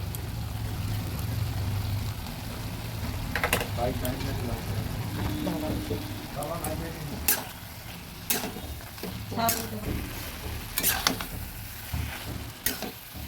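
A fried paste of rice, coriander, cumin and whole garam masala is stirred into cabbage in a pan, with steady sizzling and repeated scraping strokes of a spatula against the pan beneath a voice.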